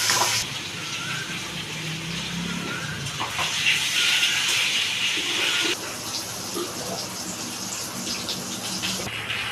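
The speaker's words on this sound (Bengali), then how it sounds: "আলুগুলো ধোয়া আছে, আমি এবার আলুগুলো ভেজে নেব" Washed potatoes fry in a pan of hot oil tempered with dried red chilli, radhuni and cumin, giving a continuous soft hiss and sizzle that rises briefly before settling.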